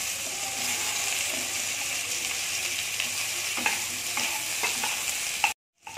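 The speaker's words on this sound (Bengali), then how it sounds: "আলুটা ভাজা হয়ে গেছে" Potatoes fry in hot oil with panch phoron and chopped onion. A steady, close sizzle carries scattered stirring scrapes and knocks for several seconds, then cuts abruptly to silence. No one talks.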